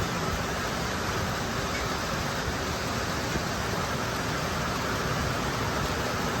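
Heavy rain pours steadily in open country near a shepherds' camp, a dense, even hiss that stays constant and close throughout with no voices or other sounds.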